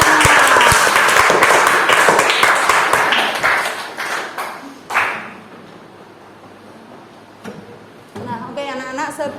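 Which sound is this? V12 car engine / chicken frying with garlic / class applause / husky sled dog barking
class applause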